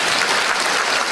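Audience applause at a Chinese New Year gala in Sydney, a dense, loud, even wash of clapping from a large crowd filling the whole moment.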